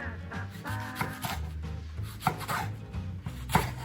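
A knife repeatedly pounds green onion on a cutting board, making irregular dull thuds and sharp knocks at close range, with no talk over them.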